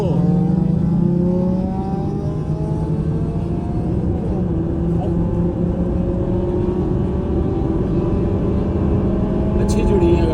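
A Toyota 3SGE-engined car and a Honda Civic with an L15 engine drag racing side by side from the line, engines revving hard with rising tones as they accelerate, loud and sustained, with someone commentating over them.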